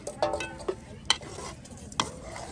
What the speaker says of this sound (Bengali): এই যে দেখুন হাঁড়িতে একদম উলট পালট করে নেওয়া হচ্ছে।